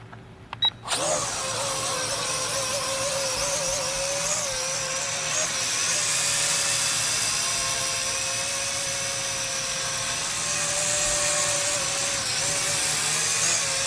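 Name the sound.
Snaptain S5C drone taking off and flying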